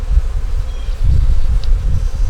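Honeybees swarming around their hive, a loud, close, continuous buzz with pulsing low hum and occasional individual wingbeats passing near.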